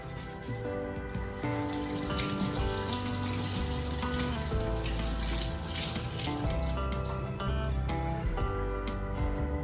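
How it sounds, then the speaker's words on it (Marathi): A greasy exhaust fan blade is washed under a running tap: steady, loud, close water gushing and splashing with some rubbing and scrubbing noises, no talk over it. "डिशवॉश लिक्विड लावून पुन्हा एकदा ते स्वच्छ करून घेतलं"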